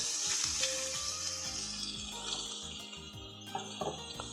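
Salmon cubes frying in a pan over lowered heat, cooking until crisp for a cream-free carbonara: a steady, close sizzle runs throughout, with a few light clinks and stirring noises near the end.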